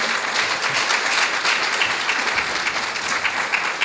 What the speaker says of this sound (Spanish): Dale fuertes palmas a nuestro Rey.